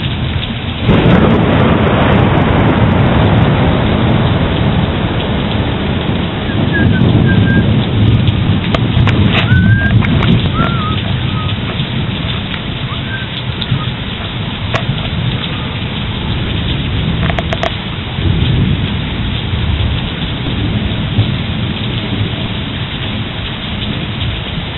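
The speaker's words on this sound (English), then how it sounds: "The heaviest part of the thunderstorm." A heavy thunderstorm pours down rain in a dense, loud wash, with deep rumbling thunder rolling beneath it throughout.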